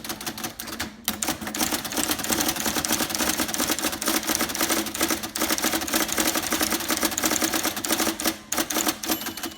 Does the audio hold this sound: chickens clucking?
no